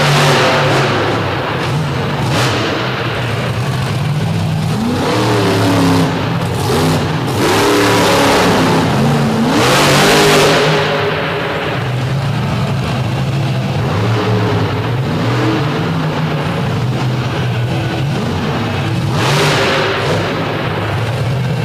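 A modified pulling vehicle roars through a freestyle wheelie run on loose soil at the DuQuoin show in Illinois, its loud engine revving in repeated rising and falling sweeps that continue throughout, close and unbroken.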